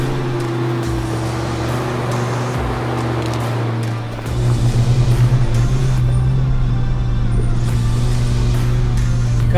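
A vehicle towing a trailer labours up a steep climb, its engine droning loudly and steadily close by, with a heavier roar as the load increases midway.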